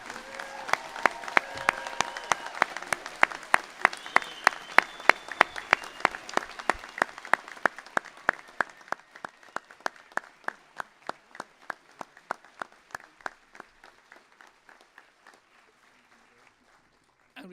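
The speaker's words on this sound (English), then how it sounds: "we might take this opportunity to give a big round of applause to all our" Applause for graduates at a college graduation ceremony, a large audience clapping that settles into a slow, rhythmic unison beat before gradually thinning and dying away.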